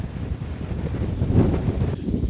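Strong wind in Lithuania buffets the microphone in a loud, low, continuous roar with gusty swells.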